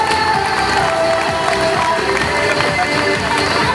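A crowd at a children's casting event for princess and knight roles gives a loud, continuous burst of applause and cheering for a seven-year-old contestant, with children's voices mixed into the clapping.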